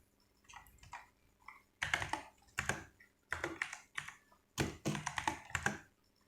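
Someone types code on a computer keyboard during a CodeIgniter tutorial, in close, rapid bursts of key clatter separated by short pauses, with no talking.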